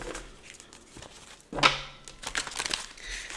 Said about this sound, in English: We're gonna give it some more shuffles.